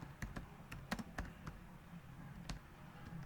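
Quiet typing on a computer keyboard, a handful of sharp, irregular key clicks spread over a few seconds against a soft background hum.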